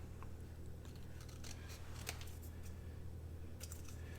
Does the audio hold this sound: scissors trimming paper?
yes